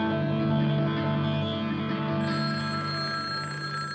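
A telephone bell rings steadily and loudly, an electronic-sounding ring with sustained tones and echo, alone with no talk, in a cartoon setting.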